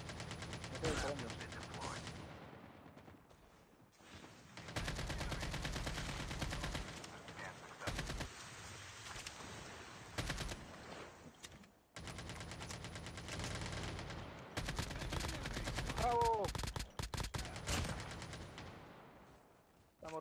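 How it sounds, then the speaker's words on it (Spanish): Call of Duty Mobile battle-royale gunfire rattles in dense, sustained bursts with brief pauses, fairly quiet overall, as Spanish-speaking players talk over the shooting. "Estoy disparando."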